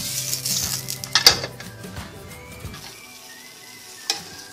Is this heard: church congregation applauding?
no